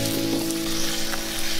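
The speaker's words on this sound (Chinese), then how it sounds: "炒香了之后，把芥蓝放下来，炒到8成熟" Chinese broccoli (gai lan) stir-frying in a wok with oil, garlic and ginger, a steady close sizzle with faint scraping, no talk.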